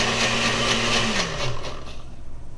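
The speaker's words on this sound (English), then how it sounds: "Cleaning the blender!" A kitchen blender runs with a little water inside to rinse it out, a loud continuous motor whir with a pitch that shifts downward partway through, close up with no talking.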